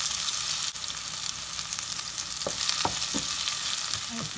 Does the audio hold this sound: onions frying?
yes